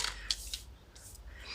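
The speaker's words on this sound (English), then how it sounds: "I'm just going to cut off the excess fabric and just going to trim this a little" Scissors trim excess fabric for small craft charms: several quick, light snips close by, fairly faint, with brief pauses between cuts and no talking.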